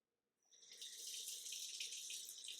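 Water runs steadily from a tap into a sink as hands are washed before cleaning chitterlings, a close, continuous hiss that starts after a brief silence and holds level to the end.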